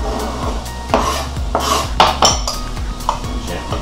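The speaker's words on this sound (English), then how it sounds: "I'm gonna toss this into our potato salad." Potato salad with green onions gets tossed in a bowl, giving a run of clinks, scrapes and soft knocks from utensils against the dish at an irregular pace, close and fairly loud.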